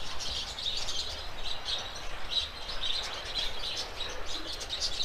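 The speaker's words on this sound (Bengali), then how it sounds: "বদ্রি পাখি আছে এখানে ম্যাক্সিমাম।" Budgerigars in an aviary on the grounds of a riverside ashram keep up a soft, continuous twittering and chirping, fairly faint and somewhat distant.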